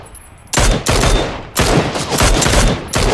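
Gunfire in the video game PUBG, several loud, close bursts of rapid shots fired in quick succession over a few seconds.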